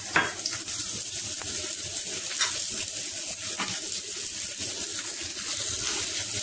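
Onion and garlic sauté in a pan for a ginisang sardines dish, giving a steady, close, broadband sizzle with faint stirring scrapes throughout and no talking.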